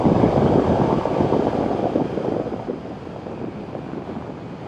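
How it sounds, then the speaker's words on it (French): Steady, heavy wind buffeting the microphone while riding a 2023 Ducati Diavel V4 motorcycle, a loud low roar that eases slightly toward the end, with no voices. "Ah si, il y a du vent."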